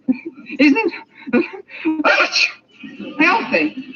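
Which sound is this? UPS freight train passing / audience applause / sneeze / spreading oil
sneeze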